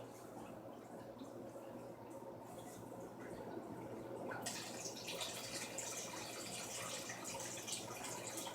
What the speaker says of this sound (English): I'm gonna slowly but surely pour this in the tank with the rainbow catfish.